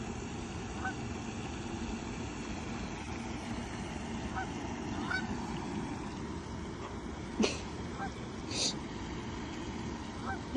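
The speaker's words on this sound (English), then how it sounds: "You scared the geese" Startled geese honk a few times in short bursts at a distance, over steady outdoor background noise by the water where people are fishing.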